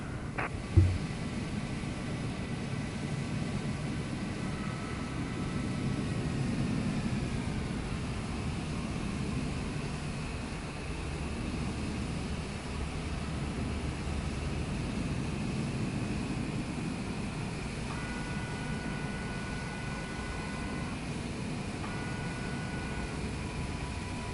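Steady low engine drone of a Cessna light aircraft taxiing on the runway after touchdown in Microsoft Flight Simulator 2024, with a brief click near the start and faint tonal beeps later, no voices.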